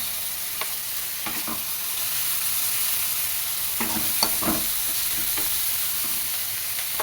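Washed, chopped dill greens are stirred into a hot frying pan for avarekalu dill-leaf uppittu, giving a steady close sizzle broken by several sharp spatula scrapes and clacks against the pan.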